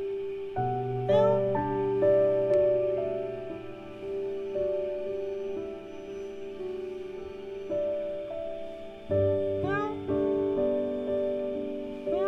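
A stray cat meows repeatedly in short, clear calls spaced through the stretch, fairly close, over a steady tonal background hum.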